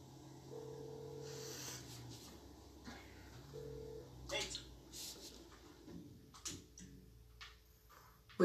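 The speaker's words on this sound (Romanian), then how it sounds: "Am luat sunat pe Trevor" Phone call dialing in the game GTA 5, with faint electronic dial tones and beeps at low volume amid quiet game sounds and clicks.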